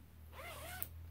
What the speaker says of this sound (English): So you can either zip it from the bottom to the top or from the top down.